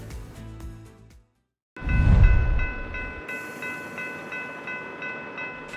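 A freight train on the Port of Palm Beach railroad rumbles heavily nearby, then sounds a long, steady horn blast over the continuing roll of the cars.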